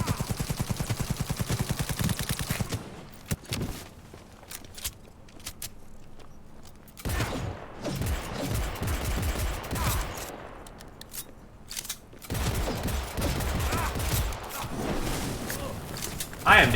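Sustained automatic gunfire in Cyberpunk 2077, rapid loud bursts of shots broken by short pauses, with a voice talking in between bursts.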